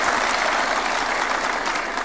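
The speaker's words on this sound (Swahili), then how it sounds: "Mpigeni makofi." A crowd at a Nairobi political rally applauds, a dense, steady wash of clapping that stays loud and even for about two seconds with no voices above it.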